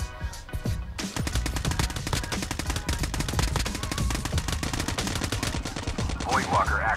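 Gunfire in PUBG Mobile, in a fight near a house: long sustained bursts of rapid automatic shots, fairly close and steady for several seconds, with little speech.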